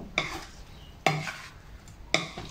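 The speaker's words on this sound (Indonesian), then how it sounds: "Diaduk-aduk lagi biar rata." Shrimp frying in a pan with seasoning, stirred in three distinct bursts of scraping and clinking against the pan over a soft background sizzle, with no talking.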